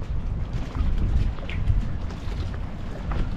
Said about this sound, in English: And that, you see, it's really windy.